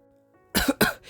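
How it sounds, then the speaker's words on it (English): Two sharp, close coughs through a mask for an audio drama, quick and loud after a quiet lead-in, followed by a softer trailing breath. "I coughed through my mask"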